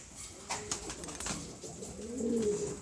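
Pigeons cooing inside a loft, soft low coos repeating near the end with a few rustles and light flutters, fairly quiet and close, no talking.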